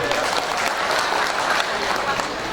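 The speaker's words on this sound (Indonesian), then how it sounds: "Tepuk tangan untuk kita semua." A crowd applauds at a regional candidates' debate, dense and loud clapping that holds steadily throughout, with an announcer's voice over the top.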